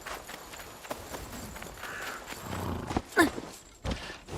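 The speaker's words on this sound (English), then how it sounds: "It's actually better if I use a horse." A horse in a video game walks with soft, irregular hoof clops over quiet ambience, with a louder thump near the end.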